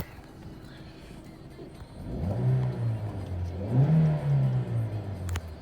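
A 2005 Toyota Avensis with a 1.8 engine is driven, its engine note swelling twice as it accelerates from a quiet cabin hum, heard from inside without talk.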